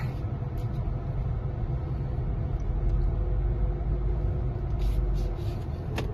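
A Tesla Model 3 pulling away in China, a low steady road rumble inside the cabin with faint whirring, no talking.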